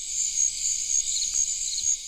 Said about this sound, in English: a very sonic, high-pitched, shrill squealing of crickets or a kettle on the boil whistling